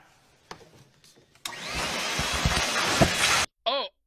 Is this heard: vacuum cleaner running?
yes